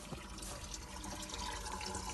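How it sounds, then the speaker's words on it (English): Water pours in a steady, continuous stream from a solar-powered borehole pump running on 24 volts, a close, even rush with no talking. "This is the flow we've got from our borehole. So okay, steady flow of water"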